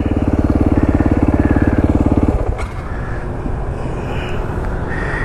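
Supermoto motorcycles idle close by with a steady, throbbing engine pulse that drops partway through, leaving a rougher, lower idle running to the end.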